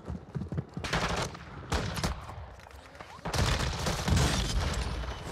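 Gunfire from a shooter video game, with bursts of rapid shots and crackling that come and go in waves. Dense and loud throughout the clip.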